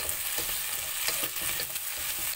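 Sliced onion frying in hot oil with roasted spices for a soya chunk biryani, a continuous close sizzle broken by soft stirring scrapes, no speech.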